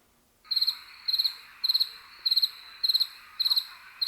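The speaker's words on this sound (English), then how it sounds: "Crickets." A cricket chirps in evenly spaced trills of about four rapid pulses each, repeating roughly twice per second, clear and alone against near silence.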